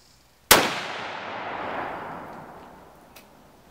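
A single sharp crack from a Savage Axis .308 rifle fired while sighting in an AIM 3-12x50 scope, loud and close, followed by a long rolling echo that slowly fades over several seconds outdoors.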